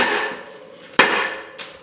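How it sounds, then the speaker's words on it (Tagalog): Rubber mallet tapping a bicycle crank arm, a Jlab 1994, 261 or Supreme crank, onto its spindle, heard as two sharp knocks about half a second apart over steady background hiss. "Kailangan kasi pukpukin yon ng rubber mallet para pumasok siya ng maigi."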